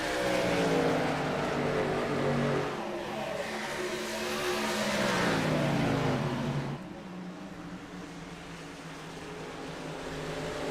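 Race trucks roar around Darlington in a championship series event, a dense continuous engine drone with rising and falling pitch as vehicles accelerate and pass, steady and loud throughout with a slight drop partway.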